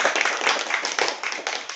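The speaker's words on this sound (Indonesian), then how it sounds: "Kita tepuk tangan untuk semuanya, untuk ketiga tim debat kita pada hari ini." An audience applauds three debate teams with brisk, continuous clapping from many hands, fairly loud and close.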